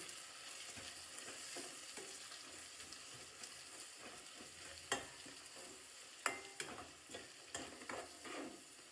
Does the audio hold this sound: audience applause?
no